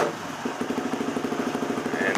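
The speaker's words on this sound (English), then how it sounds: "set it to the on position and then fire up the motor" A Yamaha WR250R motorcycle engine runs in a steady, rhythmic idle after being fired up, its low chugging pulses close and even across the whole stretch.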